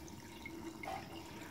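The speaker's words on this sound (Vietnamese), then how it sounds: "giờ mình đang xả nước muối ra đó" Salt water draining out of a tank used for farming eels without mud, a faint, continuous trickle and gurgle with small drips, heard alone at low level.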